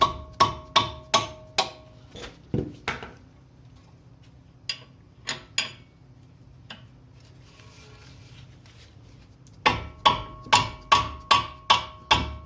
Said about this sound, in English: I'm just using the dead blow on the wrench to help crack the nuts loose